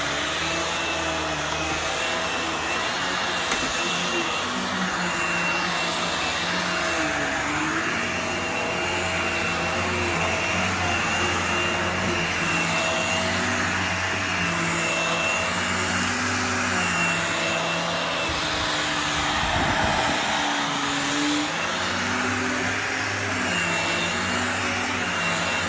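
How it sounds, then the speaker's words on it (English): A vacuum cleaner drones loudly and steadily as it goes over the carpeted floor in front of sofas, with its pitch shifting slightly as it is pushed back and forth, heard alone throughout. "Just give in front of your sofas a bit of a better going over with the vac."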